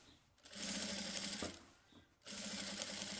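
A sewing machine stitches a placemat seam in two sustained runs with a short pause between, its motor whirring steadily and fairly close, with no voices.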